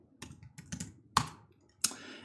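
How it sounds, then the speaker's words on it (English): Someone types on a computer keyboard while entering commands in a terminal, producing a few sparse, sharp key clicks with short pauses between them, close and fairly crisp. "I'm typing this directly in the terminal"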